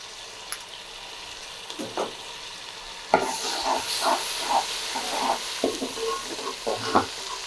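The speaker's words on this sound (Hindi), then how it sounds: "अदरक लहसुन डाल के इसको मिक्स कर लेंगे अच्छी तरह ताकि लहसुन और अदरक ब्राउन हो जाए" Ginger garlic paste frying in hot oil for chana pulao, starting quiet with faint scrapes, then a sudden loud sizzle bursts in as it is mixed, with repeated spoon scrapes and hissing close by.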